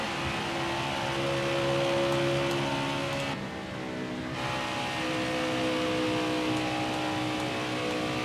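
A stock car in NASCAR Heat 4 on a qualifying lap drones at a steady, even pitch at moderate volume, briefly dipping for about a second before resuming its constant hum.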